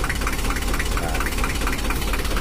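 An old Mitsubishi L300 engine idles roughly nearby, a loud, low, uneven throb with a wavering, vibrating RPM and a knocking undertone.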